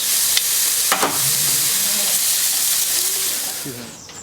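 Babyback ribs sizzling over high heat on a Kamado Joe ceramic grill, a loud continuous hiss with a few sharp pops and faint tonal sounds in the background.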